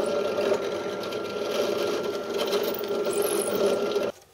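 A power drill bores a small pilot hole straight through a piece of wood for a table saw miter fence, a steady close whirring grind that runs for about four seconds and then stops abruptly.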